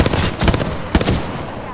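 Rapid bursts of Hemlock rifle fire in Apex Legends, two or three quick crackling volleys of sharp shots, loud and close.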